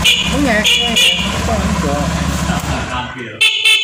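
A motorcycle horn toots in short bursts while wired to start without a relay, the last beep clear after a brief pause, with someone talking loudly over most of it.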